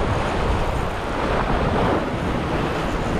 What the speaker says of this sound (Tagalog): Yun, dagat. Dagat mga buddy.